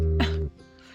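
Dogs let out a short, high whine at close range inside a vehicle camp setting, a single tonal cry lasting about half a second before it fades into quiet background.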